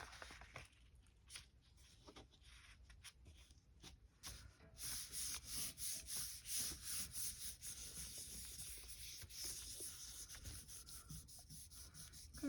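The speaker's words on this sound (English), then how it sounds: "Got to really give it a good burnish in the pattern." Steady rubbing as a stencil on a gel print is burnished by hand, first scattered scratchy strokes, then a quicker rhythmic back-and-forth scrubbing close by, quiet overall.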